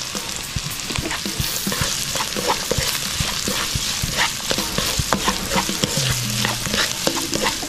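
Garlic, ginger and onion sauté in rendered beef short rib fat, a steady close sizzle and crackle with occasional scrapes of stirring.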